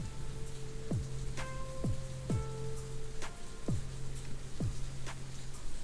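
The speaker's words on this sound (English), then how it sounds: "I can't turn the rain down anymore." Recorded rain plays on a livestream as a constant dense hiss, with repeated downward-sweeping chirps recurring about every second over it.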